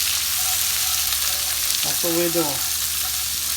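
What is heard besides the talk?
cabbage frying in bacon sausage grease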